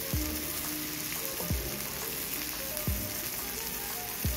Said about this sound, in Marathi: दुसऱ्या बाजूनेही आपल्याला व्यवस्थितपणे ते शिजवून घ्यायचे। गॅस कमी ठेवून ते शिजवून घेऊया आपण 5 मिनिटं।